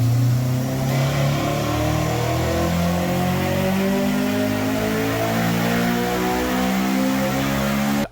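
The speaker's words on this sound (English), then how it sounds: "We're gonna give you guys a cold start video." Honda S2000 fitted with a Ballade Sports header idling after a cold start, a steady, loud, buzzy engine drone with a slight rise in revs, close up and with no talk.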